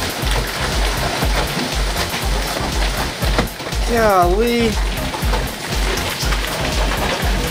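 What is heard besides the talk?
heavy hail falling and bouncing on porch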